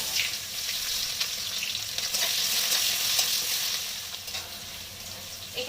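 Onion frying in hot oil with melted sugar and nigella seeds gives a steady, close sizzle with a bright, crackling hiss that holds evenly throughout, with faint stirring and no voices.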